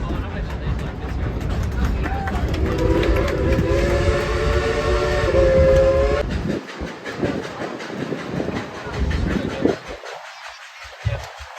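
A theme-park train at Dollywood rumbles steadily with a long, sustained whistle blowing over it, then rhythmic rattling and clacking as the ride continues.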